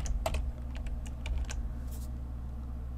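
Quick bursts of keystrokes on a computer keyboard, a short cluster of close, crisp clicks over a low steady hum, followed by a few scattered taps, with no talking.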